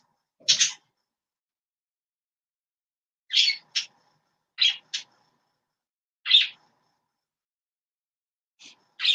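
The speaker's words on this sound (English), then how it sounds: "Hush birds. Hush it up." A few short, sharp bird chirps and squawks ring out in scattered bursts at night or early morning, separated by stretches of near silence, fairly close and clear.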